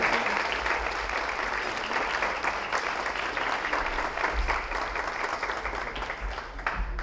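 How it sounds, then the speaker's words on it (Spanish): An audience at a seminar on gender-equal communication organized by UN Women claps in a steady, moderately quiet round of applause that fades slightly toward the end. "Un aplauso."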